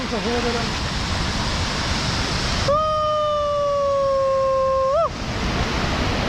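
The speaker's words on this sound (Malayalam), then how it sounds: "ഇത് കണ്ടോ, ഇതാണ് വലിയ വെള്ളച്ചാട്ടം കേട്ടോ. ഭയങ്കര ഹൈറ്റിൽ നിന്ന് വെള്ളം വീണു." A big waterfall in Idukki drops from a great height, giving a steady broad roar. A loud, wavering tonal howl cuts through it for a couple of seconds in the middle, then the roar continues alone.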